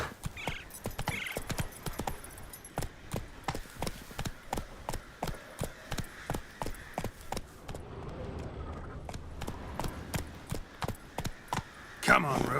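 Roach the horse galloping in The Witcher 3: Wild Hunt – Blood and Wine, steady rhythmic hoof clip-clops close by, with a brief whinny-like sound and game voices in the background.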